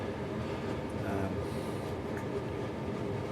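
A model train runs around a home layout with a steady, faint rolling rumble and light track clatter, continuous and without talk.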